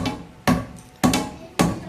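A hammer striking soft material during a DIY job, three sharp, evenly spaced blows about half a second apart, close and fairly loud.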